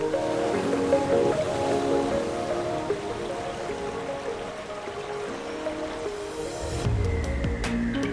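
Surf rolling onto a hidden white sand beach on a deserted island at Cabo Pulmo, a steady broad wash of waves with no voices, a few faint crackles near the end.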